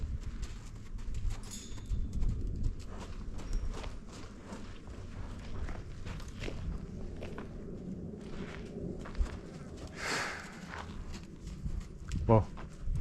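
A young filly walks slowly on a training ground, her hooves clip-clopping in an uneven, unhurried rhythm, fairly close, with a person talking over the steps and a brief higher sound near the end.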